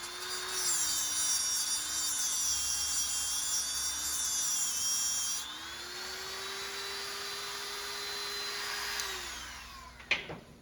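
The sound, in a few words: tungsten electrode sharpener grinding tungsten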